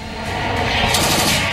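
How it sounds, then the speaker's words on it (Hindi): Heavy gunfire between ISIS fighters and security forces in Syria: a dense, continuous crackle of rapid shots blending into a roaring wash, loud and sustained with no voices. "आईएसआईएस के आतंकियों और सुरक्षा बलों के बीच हो रही अंधाधुंध फायरिंग"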